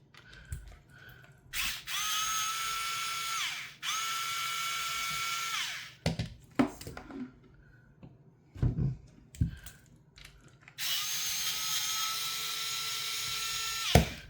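An electric screwdriver takes the wheels off a TRX4M RC truck, running in loud whirring bursts of a few seconds each, separated by clicks and handling clatter, close up with no talk.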